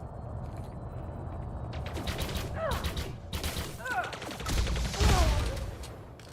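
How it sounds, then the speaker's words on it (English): Bursts of video game gunfire, rapid clattering shots over constant background noise, with chirping mechanical effects layered in and a louder volley near the end. "stop shooting me"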